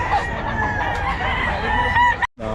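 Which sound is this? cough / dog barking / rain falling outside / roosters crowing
roosters crowing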